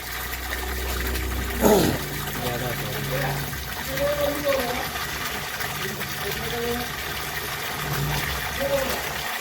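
Water rushes steadily through a toilet drain pipe just cleared of a blockage, with a brief loud splash early on and gurgling surges over a constant flowing hiss.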